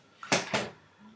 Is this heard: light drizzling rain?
no